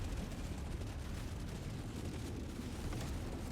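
Dense, rumbling explosion noise from gameplay in Deep Rock Galactic: Survivor, a continuous roar of overlapping blasts with no gaps, fairly faint and without any voices.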